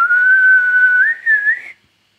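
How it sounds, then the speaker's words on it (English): A person whistles one sustained, clear tone close to a microphone, holding steady and then sliding slightly higher in two rising phrases before stopping abruptly into silence. "So if I whistle"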